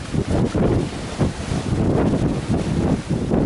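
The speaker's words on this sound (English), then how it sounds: "I'd say we're 50, 60 kilometer-hour winds here right now." Strong 50 to 60 km/h wind roars continuously across the microphone in heavy, pulsing gusts, with rough, whitecapped water churning underneath.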